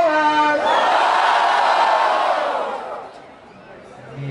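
A crowd at a street rap battle roars and cheers loudly for a few seconds, the shouting swelling and then fading, with a brief voice at the start.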